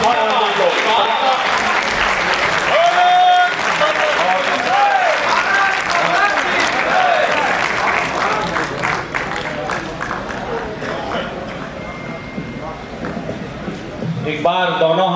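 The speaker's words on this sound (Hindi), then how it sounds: "एक बार दोनों हाथ उठा करके जोरदार तालियां" An audience at a live devotional stage performance bursts into loud, sustained applause with scattered cheers, the clapping dense at first and thinning later while voices and music carry on around it.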